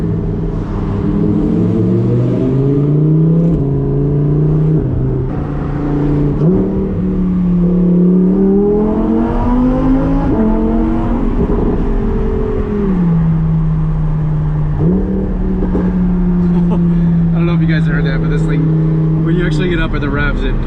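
A Lamborghini Huracán Performante engine revs up and down repeatedly, loud and close, popping low at high revs, with a person talking over it throughout.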